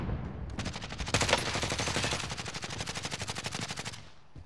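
Sustained automatic gunfire from a shooter video game rattles in a fast, steady rhythm for several seconds, loud and dense with no talking.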